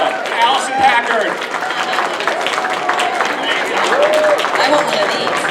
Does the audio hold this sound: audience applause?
yes